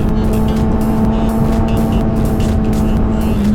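A 2017 Kawasaki ZX10R sport bike with an ECU flash and quick shifter roars steadily at high revs, its engine note dipping in quick pulses as auto-blip downshifts go through, loud and close with no talking.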